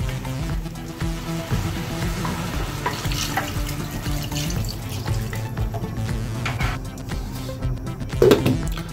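Beef seasoned with salt, coriander and white and black Penja pepper is stirred in a pot for a yam and beef stew, giving scraping, wet clattering sounds with light sizzling and a few sharper knocks against the pot, and no one speaking.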